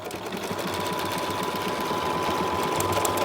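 A Bernina sewing machine stitches fabric in a steady, fast mechanical hum with a regular needle rhythm, close and continuous throughout, with no talking.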